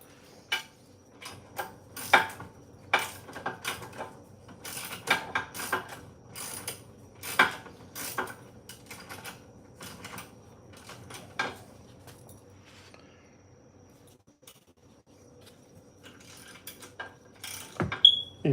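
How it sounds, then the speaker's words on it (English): Ratchet being worked on a 2003 BMW 525i during a rear brake job, giving irregular bursts of sharp ticking and clicking clicks close by, with quieter gaps and a final clatter, no voices. "Having problems with this ratchet."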